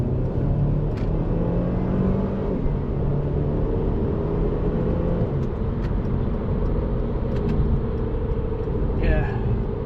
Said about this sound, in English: Drop it in 2nd and really rip it.